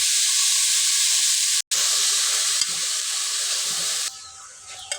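Onions sizzle steadily in a pan for chicken curry, a loud continuous hiss and crackle with a brief cut and softer stirring near the end, no talking.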